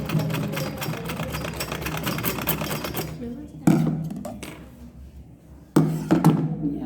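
A sewing machine stitching a flared sleeve, running in a steady fast whirr for a few seconds, then stopping and restarting in short bursts with clunks, close by while someone talks over it.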